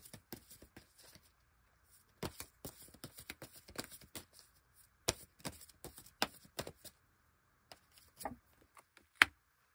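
Tarot cards being shuffled and drawn: crisp, close slaps and flicks arrive in scattered bursts with quiet gaps between them, and no one speaks.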